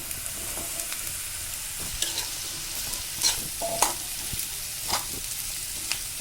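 Cauliflower added to onions frying in a pan and stirred, a soft sizzle under scattered utensil scrapes and clinks, fairly quiet and close, with no voices.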